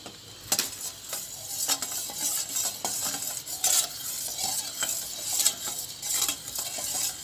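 Coconut milk heats in a pot while a utensil stirs it, giving repeated scraping and clinking strokes in an irregular rhythm over a soft bubbling hiss, close and fairly clear with no talking.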